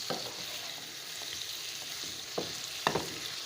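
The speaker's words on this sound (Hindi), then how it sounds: "तो हिन खे 2 मिनट मां फ्राई कंदमि प्रॉपरली, अच्छी तरह से इसको भूनना है" Liver fries with cumin in a pan, a steady sizzle broken by several sharp stirring scrapes and taps from a spatula, heard close up without any speech.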